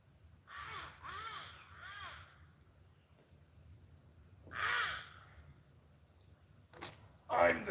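A voice imitates a crow with three harsh, nasal caws in a quick row, then one more caw after a pause, and ends with a couple of short sharp noises.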